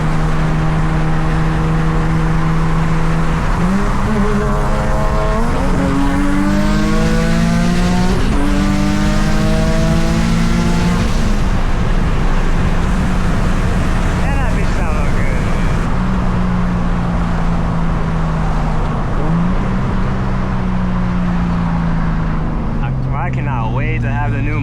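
Several tuned Japanese performance cars pull away one after another from a car meet, with engines revving and rising and falling through the gears. The sound is loud and nearby, with a voice talking over it.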